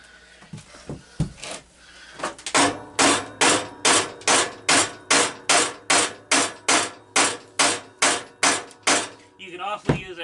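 Steady, evenly spaced hammer blows on metal parts of a hydrostatic transmission ring out about twice a second, a long run of sharp metallic strikes following a few scattered knocks.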